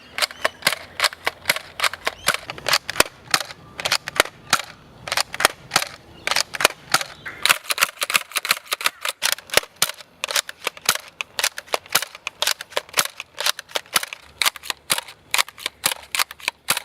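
A Nerf Elite Disruptor toy blaster fires foam darts outdoors on a range, giving dozens of sharp, snappy shots in quick irregular bursts, loud and close, with no talking.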